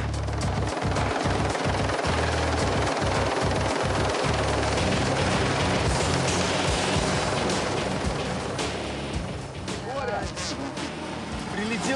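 A helicopter's rotor thumps in a rapid rhythmic chop, loud and close, with roaring engine noise and voices talking over it.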